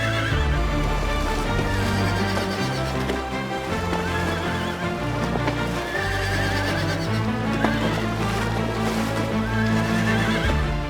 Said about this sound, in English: the sight of wild horse herds roaming beneath the peaks of Torres del Paine